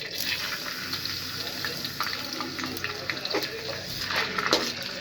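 Onions drop into hot oil in a pan for a village-style aloo baingan sabzi, a bubbling, crackling sizzle with rising bursts, close and fairly loud, with no talking.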